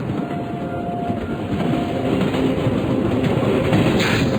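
A train in the horror game Nightmare Side rumbles steadily along the rails as it slows, a continuous low roar with faint rhythmic clatter growing slightly louder toward the end.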